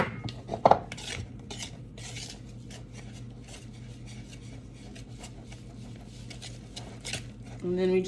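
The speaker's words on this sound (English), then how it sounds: "And then we just mix." Twinkie cake batter being mixed in a bowl, with a close clatter of utensil against bowl early on, then soft repeated scraping and stirring strokes running throughout.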